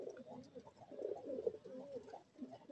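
Pigeons coo softly in a loft, a low, continuous murmur of overlapping calls that stays fairly faint and close throughout.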